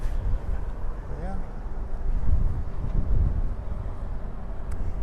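Gusty wind buffets the microphone on an open pier at a New York City seaport waterfront, a steady low rumble throughout, with a brief faint chirp near the start over the background.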